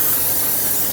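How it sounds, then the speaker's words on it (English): Brake parts cleaner hisses in one continuous, close, loud aerosol spray onto a brake rotor on a 2015-2020 Ford F-150 during a rear brake job, stopping sharply after about a second. "take some brake parts cleaner and rinse off the braking surface as well as the parking brake shoe surface"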